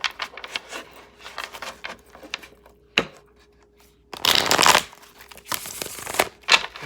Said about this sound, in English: these cards are not trying to shuffle today